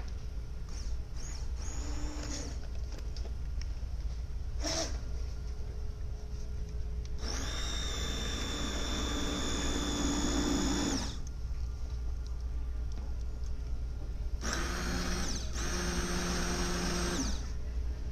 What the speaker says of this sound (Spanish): yo voy a licuar acá.